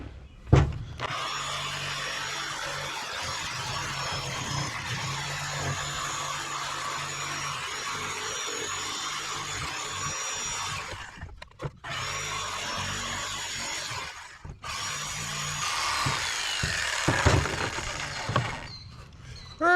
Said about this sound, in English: all I gotta do is cut a couple of holes, and I'll just push those in